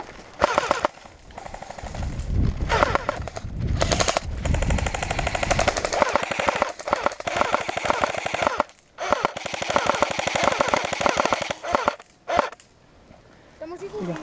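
Rapid automatic gunfire bursts in a first-person shooter video game, loud and near, firing in long rattling strings with short pauses, while players talk over it.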